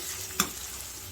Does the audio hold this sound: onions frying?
yes